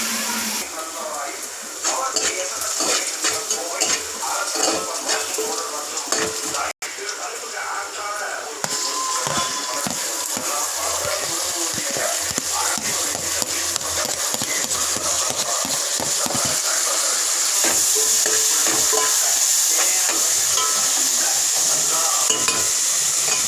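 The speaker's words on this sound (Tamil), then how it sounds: "எண்ணெய் ஊற்றியாச்சு கடுகு சோம்பு வெங்காயம் போட்டுக்கோ நல்லா வதக்கணும்" Onions sauté in oil with mustard seeds and fennel for a radish curry kuzhambu, with steady sizzling and frequent scraping stirs of a spatula. There is a brief dropout near seven seconds, and the frying grows louder and brighter toward the end.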